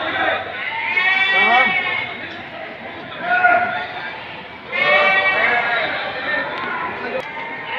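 Goats bleat at a livestock market: several loud, quavering bleats come in bursts close by, mixed with people talking and general market chatter.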